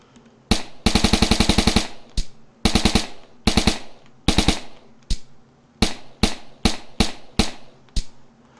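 Guns in the VR shooter game Weapon Master VR fire loudly and up close, first a rapid automatic burst, then a series of single and double shots at uneven intervals, with no talk over them.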